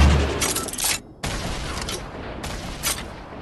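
Grenade blasts in a multiplayer video game, two sharp broadband bursts about a second apart followed by rumbling fire-like noise, loud and close, with no talk over them.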